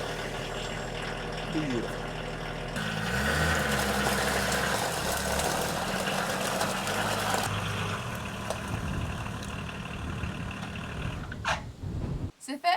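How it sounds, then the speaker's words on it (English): A rattly old fire truck engine, on a truck converted into a two-story camper, idles with a loud, rough, continuous roar and clattering vibration, close by, before dropping away at the end; a voice speaks briefly. "The thud of the solid old door, and the roar of the rattly old engine."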